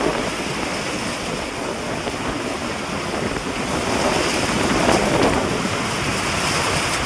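Strong unseasonal wind in Amreli district, Gujarat, roars continuously close to the microphone, a dense, rushing buffeting that swells slightly midway, with no voices.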